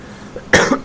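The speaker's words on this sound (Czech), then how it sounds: "mám kašel" A person coughs twice in quick succession, close and loud, after a quiet stretch.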